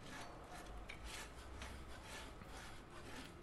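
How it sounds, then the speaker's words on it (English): Sawing in the video game A Way Out: a faint, steady rasping scrape repeats in even strokes, like metal rubbing wood, with no voices over it. "Do you think I'll ever saw through this?"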